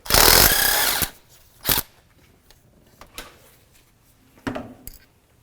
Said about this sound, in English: take a 10 millimeter socket, back out our bolt.